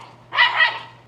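A single dog bark, fairly close and loud, a short sharp burst standing alone in a quiet room.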